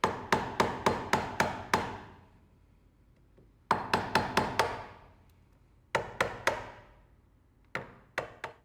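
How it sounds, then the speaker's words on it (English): A chisel is struck repeatedly into wood to clear material from a toolbox joint, giving sharp close knocks in quick bursts of four to six hits separated by short pauses. "continuing on with my chisel here and clean up that material"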